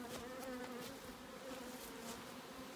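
Honey bees from packed, thriving hives buzz steadily at an apiary, a dense droning hum that stays fairly even and close for the whole stretch with no talking.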